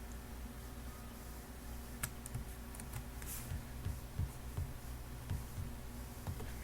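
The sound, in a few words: keyboard keys pressed for Control backspace shortcut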